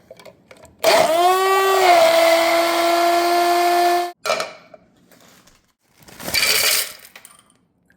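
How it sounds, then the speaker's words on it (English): A handheld electric mixer whips heaping spoonfuls of pistachio cream into froth, a loud close whine that ramps up in pitch then holds for about three seconds, followed by a couple of shorter bursts. "I don't have a frother, but I do have a handheld mixer."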